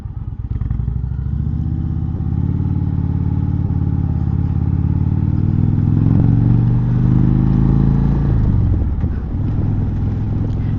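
An Indian Chieftain 116 Thunderstroke motorcycle engine runs loud and close while riding, a steady deep rumbling drone that swells in pitch partway through as the throttle opens, then eases back, with no talking.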